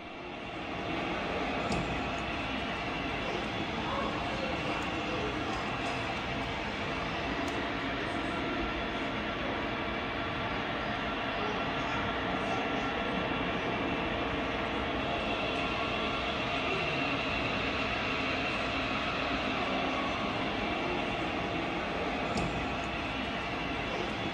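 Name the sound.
model trains running on layout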